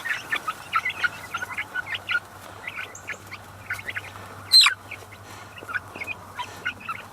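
Three-week-old Cornish Cross and slow-growing white broiler chickens give many close, soft clucks and peeps in irregular bursts, with one louder squawk partway through, and no talking.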